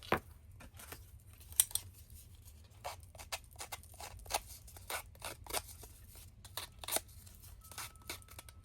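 Scissors trimming the edges of a playing card for a vintage paper craft project, giving a steady series of quiet, crisp snips and paper rustles close to the microphone.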